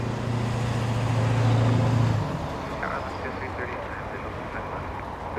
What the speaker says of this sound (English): That's an American Dreamliner.